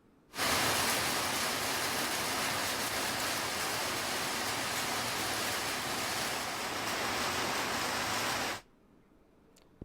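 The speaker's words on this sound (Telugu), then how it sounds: "వర్షం" Heavy rain in Palasa pours down as a dense, steady roar, loud and unbroken for about eight seconds before it cuts off abruptly into quiet.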